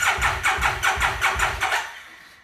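A Kawasaki Vulcan 1500 Classic motorcycle engine with a stuck throttle chugs in a fast, loud, even pulsing rhythm of about seven beats, then abruptly cuts out near the end.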